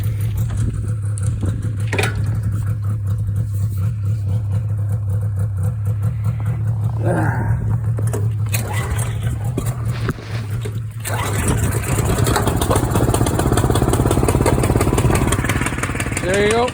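A cottage boat's outboard motor runs with a loud, close, steady engine drone that changes pitch around the middle and then picks up, with a person talking over it.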